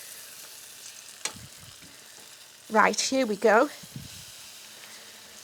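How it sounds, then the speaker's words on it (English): Food sizzles in olive oil in a pan, a soft steady crackle under a woman's speech, with a few brief clatters. "So we're just frying this up."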